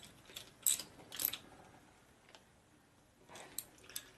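Faint, crisp ratchet clicks come from tightening bolts on a Harley shovelhead Revtech speed transmission with a ratchet top. They arrive in short bursts of a few clicks, separated by quiet pauses.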